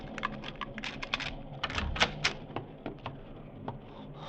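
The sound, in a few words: door being unlocked with a key and opened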